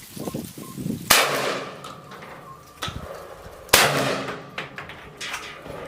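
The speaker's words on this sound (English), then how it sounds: "we'll shoot that with some buckshot at that range" Two sharp, loud shotgun blasts from an AR 12 Boomslang Thunderbolt firing buckshot at a downrange target, each ringing out and decaying, with fainter clanks and pops between them.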